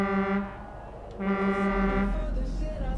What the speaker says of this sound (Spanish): Odio que se corte el claxon.